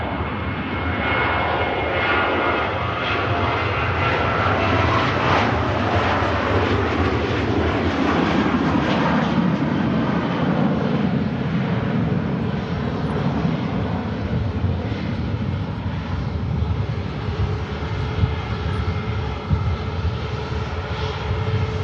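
An EasyJet Airbus A320neo on final approach into Manchester Airport roars loudly and builds as it passes close overhead, then the deep rumble fades into a lingering whine. No voices are heard.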